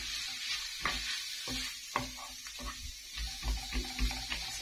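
Minced kefta sizzling quietly in a pan while a utensil stirs and breaks it up, with soft scraping taps scattered through a steady frying hiss, alone without talk.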